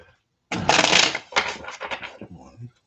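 Tarot cards are shuffled by hand in a series of crisp riffling bursts, close and fairly loud, with short pauses between them.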